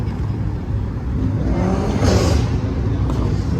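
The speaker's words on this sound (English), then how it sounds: "that BMW was loud as hell." A BMW at a Halloween car meet revs its engine loudly, a sustained roaring drone that swells and peaks midway before easing slightly, heard up close with no talk.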